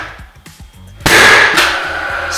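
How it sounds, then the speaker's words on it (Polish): A powder-actuated nailer fires once, driving a pin through a pre-cut laser profile during underfloor heating installation, a sudden loud sharp bang followed by ringing reverberation after quieter handling sounds. "strzał i mamy kołek wbity"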